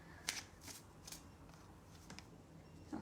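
Tarot cards being shuffled by hand during a card reading, a few soft riffling bursts spread across a quiet stretch, close and faint with no talking.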